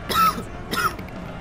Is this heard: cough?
yes